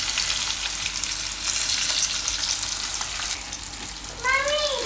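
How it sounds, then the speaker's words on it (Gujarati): Garlic-stuffed red chillies roast in hot oil with a steady, close hiss of frying that runs throughout, a brief louder flare of sizzle near the end. "તો આને આપણે આ રીતના શેકી લીધા છે બધી બાજુ સરસ"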